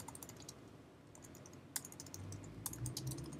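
Steady typing on a computer keyboard, a quick run of soft key clicks heard close and fairly quiet, with a few sharper taps and no talk.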